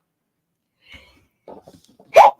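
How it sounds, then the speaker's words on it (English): A single person's sneeze bursting out loudly after a few quiet sniffs and breaths, close and alone. "I think I'm going to sneeze at any moment"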